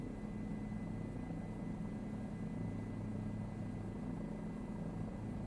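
A helicopter in Microsoft Flight Simulator 2024 flies level with a steady, moderately quiet rotor and engine drone, low thrumming throughout without variation.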